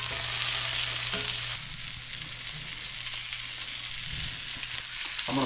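Wild hog meat sizzles steadily in a pan, a loud constant hiss with a low hum beneath, while a utensil stirs it with occasional soft scrapes and no voices.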